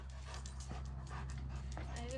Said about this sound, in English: Little puppies.